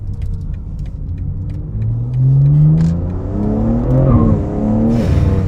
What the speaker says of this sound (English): Little chirp from the rear tyres. There's a lot of torque on offer.